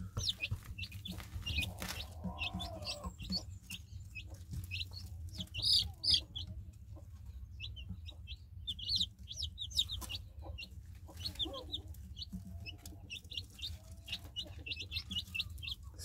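Hens cluck softly while newly hatched chicks chirp in frequent high, thin peeps, scattered and close but quiet over a low background rumble.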